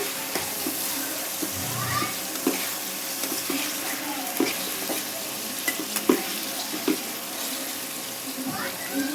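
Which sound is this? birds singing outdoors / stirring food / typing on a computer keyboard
stirring food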